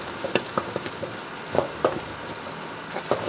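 Sea foam candy mixture being stirred by hand, with soft scraping and clicking strokes against the pot at an uneven rhythm, fairly faint and close, with no voice.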